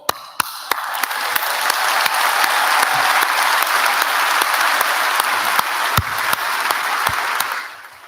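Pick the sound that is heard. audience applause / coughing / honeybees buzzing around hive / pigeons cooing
audience applause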